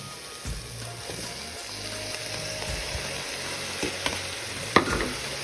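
Biryani masala sautés with freshly added tomatoes in a pan, giving a continuous sizzle under repeated spatula scrapes and taps against the metal, with one sharper knock near the end.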